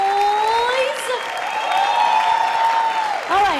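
A crowd at a pageant event claps and makes noise, a dense wash of applause and cheering behind a microphone voice.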